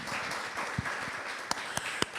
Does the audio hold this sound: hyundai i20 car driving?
no